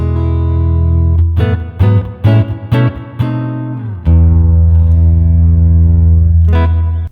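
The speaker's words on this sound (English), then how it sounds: "So this is the amp with the reverb." An electric guitar runs through an amp model with reverb on a Line 6 HX Stomp XL, several loud picked notes and chords followed by a long sustained chord whose reverb tail rings out, then one final strum.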